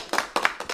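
A short applause sound effect plays back in a few quick bursts of hand clapping, moderately loud and with no talking over it.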